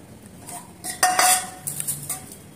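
Chicken mixed with cornflour and egg in miniature cookware for chilli chicken, heard as small metallic scrapes and clinks of a tiny utensil in quick, uneven bursts, close up and without speech.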